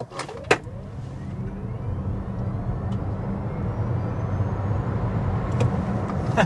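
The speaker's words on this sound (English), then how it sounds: "You get that instant acceleration right when you put your foot down on the throttle." Heard from inside the cabin, a 2026 Toyota C-HR XSE SUV with over 300 HP accelerates hard, its thin whine climbing steadily in pitch above a constant low road rumble.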